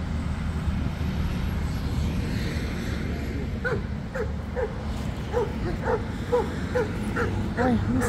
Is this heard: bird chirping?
no